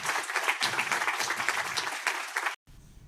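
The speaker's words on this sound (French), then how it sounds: "Je peux t'applaudir encore une fois" Audience applause at a conference on soil ecological engineering and carbon storage, a dense wash of many hands clapping steadily for about two and a half seconds before cutting off abruptly into a quiet hall.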